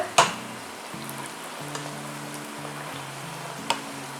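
Curry leaves crackle and sizzle in hot oil for a snack, with sharp pops near the start and end over a steady close frying hiss.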